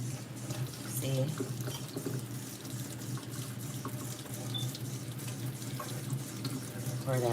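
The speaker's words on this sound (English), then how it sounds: "So just a quick rinsing of the grits." Water runs steadily from a kitchen faucet into a sink as grits are rinsed, a continuous close splashing stream that stays loud throughout.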